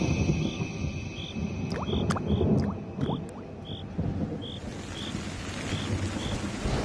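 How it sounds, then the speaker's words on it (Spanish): A steady wash of rain with low rumbling thunder rolling underneath, and repeated creature-like calls sounding at regular intervals. "El viento meridional trae relámpagos y lluvia"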